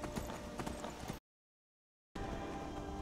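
Horse hooves clip-clop steadily in the Skyrim video game, a dense, loud patter that cuts to total silence for about a second before resuming.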